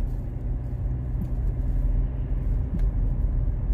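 A car passes on a foggy road in Birmingham, a steady low rumble of engine and tyres that stays fairly loud and even throughout, with no one speaking.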